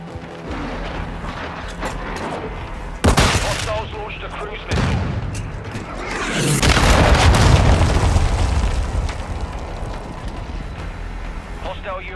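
Gunfire and explosions in the shooter game Call of Duty Modern Warfare 2, sharp loud shots and heavy booming blasts with a long rumbling swell, mixed with in-game voice callouts.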